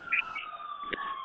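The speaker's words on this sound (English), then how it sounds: "We have sirens coming around us, if you can hear that in the background." Emergency vehicle sirens passing outside, a steady wailing tone heard through walls at moderate distance, continuous with a faint short knock partway through.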